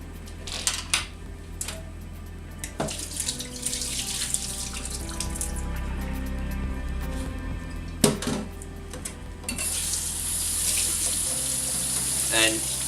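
Soaked nuts rinsed under a running kitchen tap, a steady hiss of water spattering into a sink with brief clatters of handling, continuing throughout at moderate loudness.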